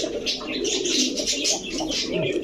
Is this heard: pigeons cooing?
yes